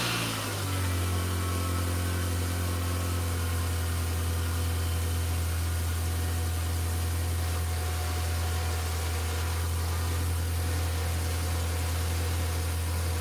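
A 2006 Mini Cooper engine idles steadily for the whole stretch, a low, even hum with a constant drone and faint mechanical hiss, close and alone with no talking.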